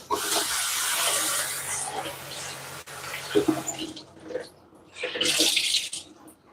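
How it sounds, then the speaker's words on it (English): A kitchen tap splashes water onto a cloth used to cover sourdough, running in uneven bursts with rubbing and handling noises between them, close and fairly quiet. "Get some water on it"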